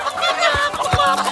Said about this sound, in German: Findus spielte vor dem Haus mit den Hennen Fußball